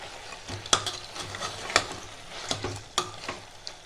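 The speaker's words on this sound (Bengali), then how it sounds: "মাঝে মাঝে একটু ঢাকাটা খুলে নাড়িয়ে চাড়িয়ে দিতে হবে।" Mutton curry for a thin-gravy goat meat dish is stirred in a pot, with a steady low sizzle broken by a few sharp scraping and clinking strokes of the spoon, close and alone without voices.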